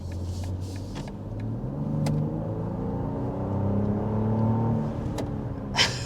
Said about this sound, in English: So a quick punch of the accelerator, you're already above 50 miles per hour.